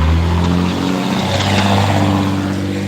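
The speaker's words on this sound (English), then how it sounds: "Let that diesel roar" Diesel truck engine revving hard, a loud, close, throaty roar with a rising and falling pitch that holds for a few seconds.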